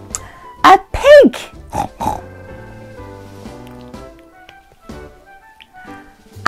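Pig oinks, apparently a human voice imitating a pig, come as a few short grunty snorts with a rising-falling squeal, followed by quieter gentle musical tones.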